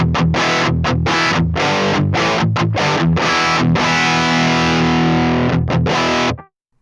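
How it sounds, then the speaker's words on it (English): An electric guitar plays heavily distorted chords and riffs through a Mesa Boogie Mark IIC+ amplifier, loud and choppy with short gaps between strums before the last chord rings out and cuts off abruptly. "Adding in the treble just to even out the amount of sort of low end that's coming from the distortion."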